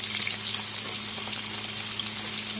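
Diced potato with a bay leaf and whole cumin seeds frying in hot oil, a steady dense sizzle running unbroken and close throughout, with no voices.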